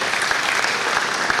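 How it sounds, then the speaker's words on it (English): A church congregation clapping for Jesus at a thanksgiving service, a brief, dense and steady burst of many hands close by. "Put your hands for Jesus. Clap for Jesus."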